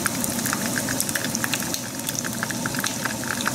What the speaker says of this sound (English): fry it till it's crispy